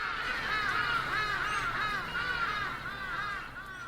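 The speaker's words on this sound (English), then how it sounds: "in the background, you can hear the authentic sounds of African bird life." African birds call in the background, a harsh crow-like caw repeated in a steady run of about seven calls. The calls are moderately loud, somewhat distant and come with no talk.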